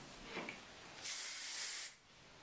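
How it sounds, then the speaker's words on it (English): Hairspray is sprayed onto a finished waterfall braid, a short puff followed by a steady hissing burst of about one second, close and soft in a quiet room. "And just give this a spray."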